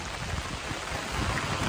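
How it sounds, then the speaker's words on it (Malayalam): Rain falls steadily outdoors at Kumarakom, a dense, even wash of patter close to the listener that swells slightly toward the end, with no talking. "പെട്ടെന്ന് മഴ പെയ്തു."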